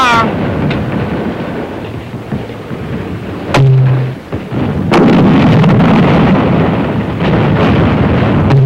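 A mortar fires smoke rounds at charge 1 on a WWII rifle platoon training range, giving several deep, thumping booms spaced a few seconds apart. Rumbling echoes follow each shot, and voices are heard in between.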